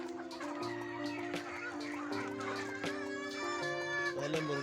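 Hens and roosters cluck and murmur nearby in a continuous, busy chorus, with a few higher squawks rising toward the end.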